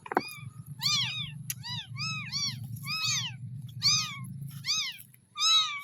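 Several small kittens meowing repeatedly in high, overlapping cries, close by over a steady low rumbling hum.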